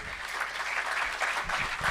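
An audience claps steadily at a B.Tech batch inauguration, a dense, sustained applause that swells slightly toward the end.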